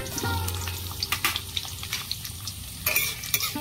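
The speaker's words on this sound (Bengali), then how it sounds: "তেল গরম হয়ে গেছে, রসুন কুচি দিয়ে দেবো।" Chopped garlic hits hot oil in a wok on a lit stove, giving a steady close sizzle with scattered clinks of a spatula and utensils, for a dish of taro leaf ghonto.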